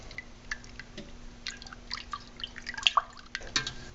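Small liquid drips, clinks and soft sloshes come and go faintly as yeast nutrient is stirred into a pot of maple syrup wine, set over a quiet, steady background hum.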